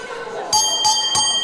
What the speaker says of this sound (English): The three bells, the three rings.